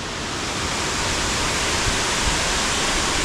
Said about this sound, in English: This is arguably the tallest waterfall in Maryland.